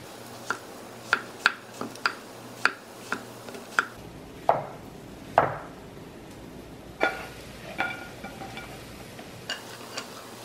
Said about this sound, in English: I've already washed my zucchini, so now I'm just going to slice it